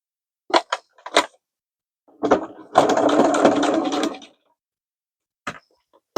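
Domestic sewing machine running a burst of stitches through a fabric snack bag on the free arm, about a second and a half of steady whirring between a few short knocks and clicks, close up and moderately loud.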